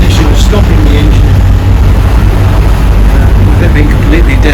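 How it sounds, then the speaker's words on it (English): A sailboat's engine runs with a steady, loud, broadband rumble and drone that holds constant throughout, mixed with wind and water noise. "Stopping the engine"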